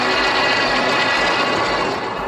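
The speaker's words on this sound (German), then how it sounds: "ein bisschen lauter sind halt Stahlzahnräder, aber ich finde, geht noch" Himiway e-bike hub motor with steel gears running, a steady loud whirring whine with a constant broadband drone throughout, close by and alone.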